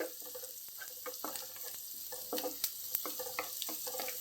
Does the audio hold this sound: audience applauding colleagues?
no